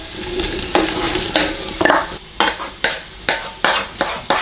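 Onions and peppers sizzle in a pan while being stirred for homemade organic ratatouille, with a spoon scraping in a steady series of sharp strokes over the continuous frying hiss.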